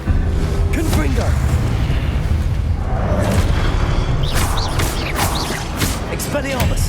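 Confringo fire spell explosions during a Hogwarts Legacy battle, repeated booming bursts over dense, loud combat noise and music.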